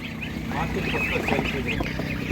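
Ducks, including mulard ducks, quack and honk at an outdoor poultry market in Ukraine, a busy overlapping chorus of calls under nearby talking and market bustle.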